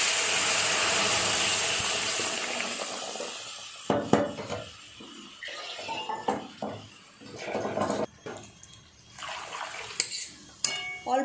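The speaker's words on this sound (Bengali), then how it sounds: "ডালটা ঢেলে দেবো।" Urad dal tipped into a cooking pot in a home kitchen, giving a sequence of short clattering, splashing pours and knocks, close and moderately loud, after a steady sizzle at the start.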